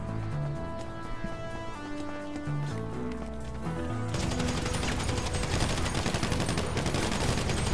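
Gunfire from GTA 5 rattles in rapid bursts over a looping game music track, the shots growing denser and louder in the second half; no voices.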